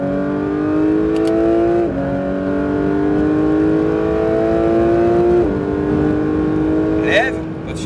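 A Porsche GT3 accelerates on a race track, its engine tone climbing steadily through long pulls broken by two brief shift dips, with a voice talking over the loud engine.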